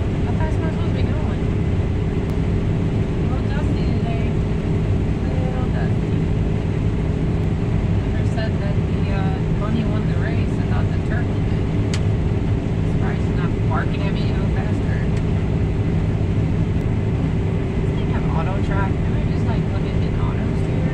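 A combine harvester drives through a soybean field after a hurricane, its engine a loud, steady low drone with constant mechanical rumble and occasional clatter, heard from the cab without talk.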